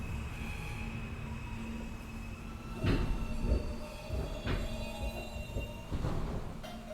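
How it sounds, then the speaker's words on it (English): A Manhattan-bound F Express subway train of R160A cars runs with its air conditioning out of service, giving a steady interior rumble, rail clatter and several clanking joint bumps, with tonal motor whine and no talk. "This is a Manhattan-bound F Express train."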